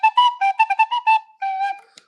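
Tin whistle playing a short melodic phrase of bright, clear notes, with a quick run of tones, a brief pause, then a longer held note and a final short chirp, close and alone.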